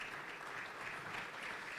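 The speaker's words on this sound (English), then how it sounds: "Please also give her a round of applause" At a fintech summit, an audience claps for a panelist, a uniform, fairly quiet spread of many hands sounding continuously with no voices over it.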